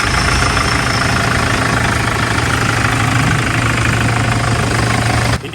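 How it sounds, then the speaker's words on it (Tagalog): Car engine idling with a fuel knock rather than a turbo fault, a steady loud mid-pitched rumble with an irregular knocking throughout, close up and without speech. "Hindi to turbo, fuel knock to eh."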